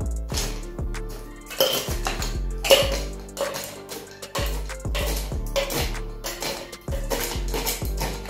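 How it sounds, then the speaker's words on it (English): Ice cubes clatter and clink into a metal cocktail shaker tin in bursts of sharp knocks and rattles while a gin cocktail is being made. "we're gonna fill our tin full of ice cubes"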